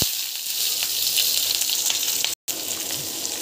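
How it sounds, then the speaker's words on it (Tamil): Garlic and onion sizzle steadily in hot oil for a chutney, a dense, continuous frying hiss, close and fairly loud, with a momentary dropout near the end. "ஸோ இப்போ வந்து பார்த்திங்கன்னா ஆயில் வந்து போடுறேன். இதில் வந்து பார்த்திங்கன்னா பூண்டு வெங்காயம் ரெண்டுமே ஆட் பண்ணணும்."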